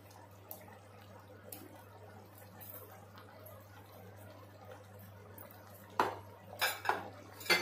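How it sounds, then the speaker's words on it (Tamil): Metal utensil clinking and scraping against a pan while potato, brinjal and drumstick curry is stirred, quiet background for several seconds, then a few sharp clanks near the end. "இப்ப கொஞ்சம் கலந்து விடுறேன் லேசா"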